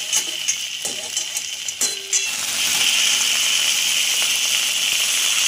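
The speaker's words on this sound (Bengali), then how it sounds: "জল দিয়েও তা খানিকক্ষণ নাড়িয়ে নিচ্ছি" Moringa greens in a pan get a few metal stirring clinks, then water is added and a loud, steady hiss and bubbling sizzle takes over and continues close up.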